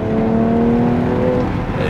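A BMW X3 M Competition accelerates with a loud, steady engine drone that holds for about two seconds, heard close up from inside the car in the rain.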